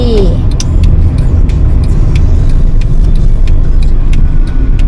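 A car cruises steadily into a side street in Sathorn, Bangkok, its engine hum and road rumble loud and continuous, with faint clicks and speech-like sounds on top.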